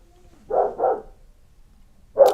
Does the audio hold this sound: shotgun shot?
no